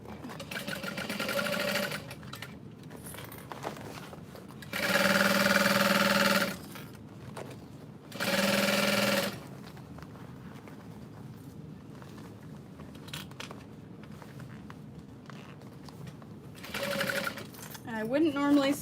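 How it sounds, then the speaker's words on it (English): A sewing machine stitches the bottom of a round diaper bag muslin in several fast bursts of whirring, buzzing motor and needle, separated by quieter gaps where a person talks. "I wouldn't normally sew the bottom of a round bag on this fast"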